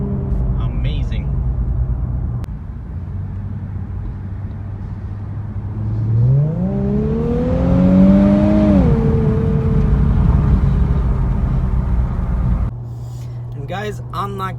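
An Infiniti Q50S Red Sport drives along with a steady engine drone inside the cabin, then revs up through a rising sweep of acceleration before settling back to cruising; someone talks over part of it.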